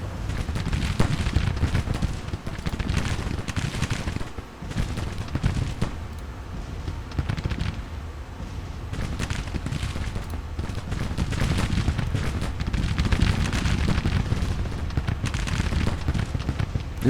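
Sustained battlefield din of artillery and massed gunfire in Grand Tactician: The Civil War, a continuous rumbling barrage with repeated booms and crackling volleys, loud and dense throughout without pause.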